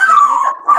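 A small rescued female dog vocalizes indoors with a high, whining yelp that rises into a short howl-like cry. The sound is close, loud and alone, and it dips briefly before resuming.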